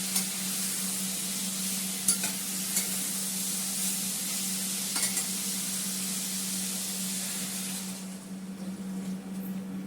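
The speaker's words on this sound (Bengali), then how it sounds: "হয়ে গেছে, এবার জল দিয়ে দেবো।" Food fries in a pan, a steady broadband sizzle with a low hum and occasional stirring scrapes, easing off near the end.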